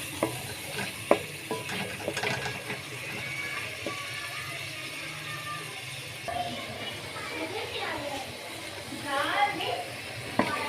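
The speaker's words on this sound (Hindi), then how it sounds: "अच्छे से भूनना है टमाटरों को।" Tomatoes frying and being stirred in a pan for a dhaba-style phool gobi sabzi, with a steady low sizzle, scattered utensil scrapes and clinks, and faint background voices.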